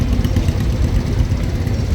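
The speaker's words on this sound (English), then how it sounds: "Followed by a patio tractor with a blue hood." Patio tractor with a blue hood driving past in a threshermen and collectors show tractor parade, a steady low engine chug close by, continuous and loud, with no voices.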